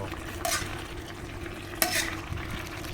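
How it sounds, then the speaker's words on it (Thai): Giant catfish stir-fried with bell peppers in a pan, a steady sizzle broken by two bursts of loud scraping stirs, close and without voices. "กำลังผัดอยู่เลยนะจ๊ะ"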